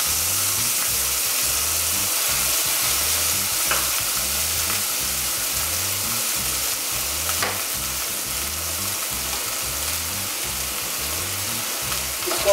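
Ginger paste spitting and sizzling in hot oil with cumin seeds, a steady loud frying hiss running continuously with occasional sharper pops, no voices.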